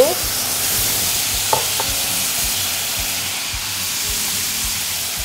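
Seasoned beef sizzling as it stir-fries in a hot pot, a steady loud hiss with occasional stirring clinks and scrapes, no talking.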